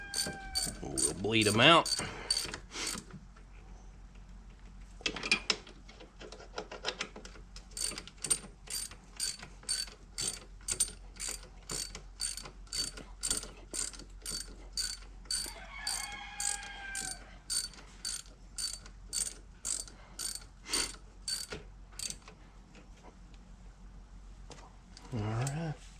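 A ratchet tightens brake parts on a Coleman AT125UT, giving bursts of quick, evenly spaced clicks up close. A brief spoken remark comes in near the start.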